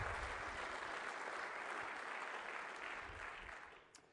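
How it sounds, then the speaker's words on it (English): A conference audience applauds steadily in a hall. The clapping is dense and fairly distant and slowly fades toward the end. "I'd like to give them a round of applause and thanks."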